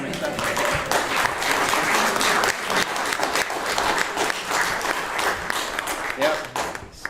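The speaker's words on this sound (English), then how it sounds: "Even though he escaped the stage so quickly, why don't you give another round of applause to Cameron?" Applause from a concert audience in a church in Tyringham, Massachusetts, a dense steady wash of many hands clapping throughout, with faint voices mixed in, easing slightly near the end.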